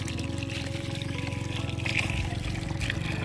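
Fresh mountain spring water runs in a steady, continuous pour and trickle close by, with a faint burble throughout.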